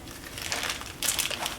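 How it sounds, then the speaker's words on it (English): A plastic piping bag, made by snipping the corner off a bag, is squeezed to push the air out while preparing Guinness cupcakes, giving a soft, continuous crinkling and rustling up close for a moment. "get all the air out of it, squish all this down to the bottom"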